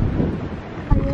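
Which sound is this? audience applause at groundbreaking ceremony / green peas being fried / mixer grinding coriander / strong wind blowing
strong wind blowing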